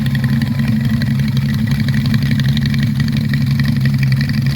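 A 1989 motorcycle engine idles steadily at a swap meet, a loud, close, even low rumble with constant throbbing pulses and no talk over it.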